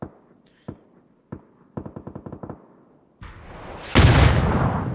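Gunfire in the battle royale game PUBG: a few single shots, then a rapid burst of about nine evenly spaced rounds, followed by louder, denser firing and a heavy blast toward the end, with no talking.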